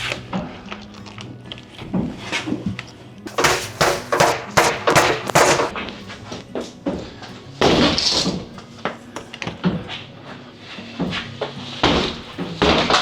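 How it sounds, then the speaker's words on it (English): Heavy blows land in irregular bursts on a condo unit during demolition of a 30-unit complex, sharp loud impacts with short pauses, close and echoing. "So you hear that banging, that's Sepio banging on a unit, getting between one unit and the next."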